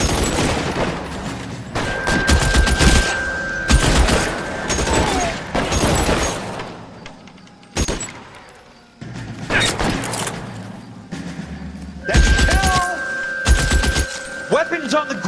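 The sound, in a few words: gunfire in the video game L.A. Noire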